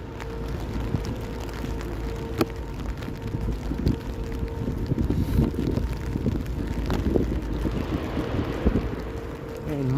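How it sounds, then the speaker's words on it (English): Steady rain falls outdoors on a freezing evening in Toronto, a continuous hiss with wind buffeting the microphone and faint street noise mixed in. "Basically, it's been raining non-stop."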